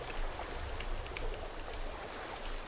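Loud, constant rushing water in the Sons of the Forest video game, a dense splashing stream or waterfall roar that stays steady throughout with no talk.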